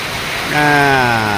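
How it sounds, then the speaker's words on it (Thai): Steady broadband hiss of the first rain of the season falling after hot weather, continuous throughout, with a voice joining partway through and speaking over it. "ในที่สุดสิ่งที่รอคอย ก็มาแล้วครับฝนตก"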